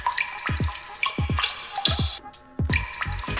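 Magic water pours from a small container onto the base of a toy Christmas tree, making close, repeated splashing drips in uneven bursts with a brief pause near the end.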